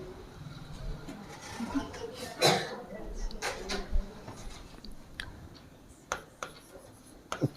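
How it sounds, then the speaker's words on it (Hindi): Pen or marker writing on a board or paper during a class-ten math lesson on probability, scratchy strokes in short bursts and taps, close by, with a teacher talking intermittently. "हम पहले यहां लिख देते हैं"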